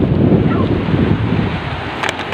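Big ocean waves and strong wind at a breakwater during a strong northeast monsoon, a loud, continuous roaring wash of surf with wind buffeting the microphone and no talking.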